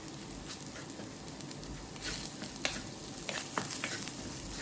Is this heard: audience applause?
no